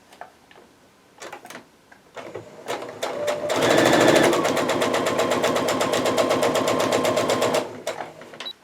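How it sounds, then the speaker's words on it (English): A sewing machine stitches fabric strips corner to corner for a tie-on face mask: a few soft handling clicks, then a close, fast, even run of needle chatter for about four seconds before stopping. "I'm just going to sew from corner to corner to join those."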